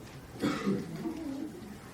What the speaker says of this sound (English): Anyone else have a bad cough?